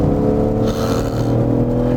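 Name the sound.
M car engine and exhaust sound while driving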